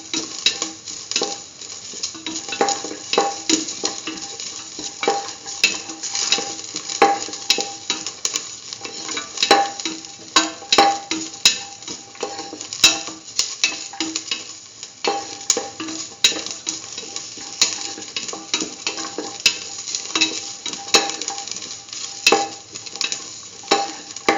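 Corn and rice being sautéed in a pan for coconut milk rice, a constant close sizzle broken by frequent rhythmic clicks and scrapes of a spatula against the pan.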